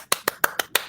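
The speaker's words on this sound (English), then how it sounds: "join me in a virtual applause to let me put your hands together to welcome Miss" A handful of hand claps welcoming a guest, six sharp close claps at a steady, slightly uneven pace, quiet and alone with no talk.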